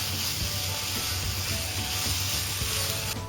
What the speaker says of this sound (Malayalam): നമുക്ക് അതിലേക്ക് മിൻസ്ഡ് ബീഫ് ചേർത്ത് കൊടുക്കാം